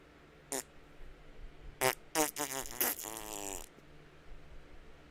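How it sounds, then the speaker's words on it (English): A series of loud, close farts, one short burst then a rapid run of buzzing, flapping blasts ending in a drawn-out ripple, with no speech over them. "I'm farting."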